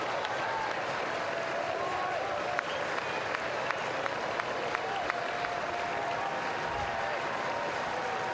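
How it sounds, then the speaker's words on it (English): Crowd noise at a 2022 NCAA Super Regional baseball game between Texas A&M and Louisville, a steady wash of cheering and clapping with scattered sharp claps and shouts, moderately distant. "Crowd trying to will Dallas off the field."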